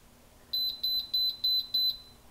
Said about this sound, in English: if you have this turned down too low, it'll start making that beep